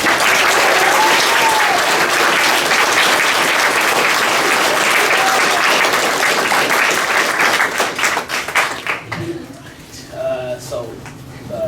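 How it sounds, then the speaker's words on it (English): An audience at the Pilarcitos 2019 graduation claps and cheers for the graduates in a loud, dense, sustained roar of applause that thins and fades out over the last few seconds. "let's make some noise for the graduates"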